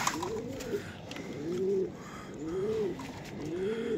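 Pigeons cooing at a rooftop loft in Multan, with four evenly spaced, rising-and-falling coos heard up close against quiet background noise.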